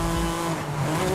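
A 1992 Honda NSX-R braking hard in Forza Horizon 5, with a loud, sustained tire squeal and skid over a steady engine drone, close and continuous.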